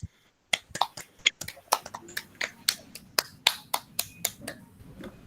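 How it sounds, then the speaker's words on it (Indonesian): Scattered classroom clapping for a student during a peer-teaching lesson: a handful of sharp, separate claps in an uneven rhythm, close and crisp, with a faint murmur underneath. "Berikan tepuk tangan lagi untuk Bagas."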